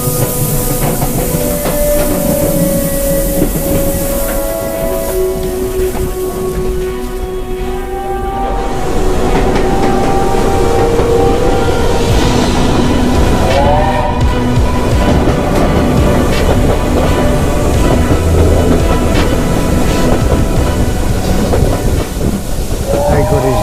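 A steam train at Bury runs loud and close for the whole stretch, with a steady chugging rumble, hissing steam and rail clatter. A brief whistle-like tone sounds partway through.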